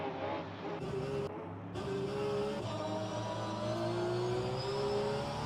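Porsche GT3 race car engine in a sim racing game at Circuit Zandvoort, a steady high-pitched whine rising through the gears with continuous engine drone, loud and close throughout.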